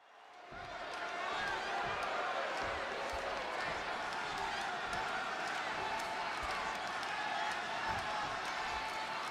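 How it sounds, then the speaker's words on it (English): Crowd noise from a Chicago arena in the WWE 2K26 wrestling video game, during a CM Punk versus Eddie Guerrero match: a loud, steady roar of cheering fills the whole stretch, with scattered thuds and claps beneath it. "just listen to this crowd here in Chicago"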